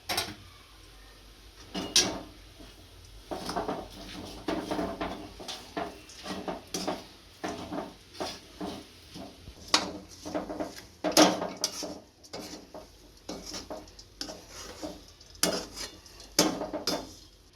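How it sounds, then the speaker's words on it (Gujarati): A utensil stirs a coconut and date laddu mixture in a pan, producing repeated close scraping and knocking strokes in an uneven rhythm, with quiet gaps between. "આને બધું મિક્સ કરી દઈશું આપણે."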